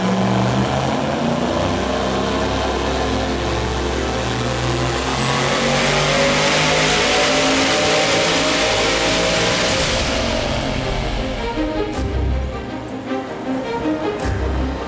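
A drag race car with a turbo wastegate problem revs hard on a dyno, its engine note climbing in a long sustained pull before cutting off abruptly near the end, loud and close.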